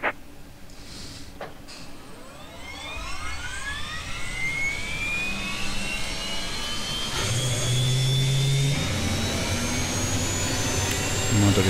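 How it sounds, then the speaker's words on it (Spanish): A jet engine on an Aerobask Eclipse 550 in X-Plane 11 spools up from start, its whine rising steadily and growing louder over a low rumble, with brief low tones near the end. "Vamos a arrancar el motor derecho"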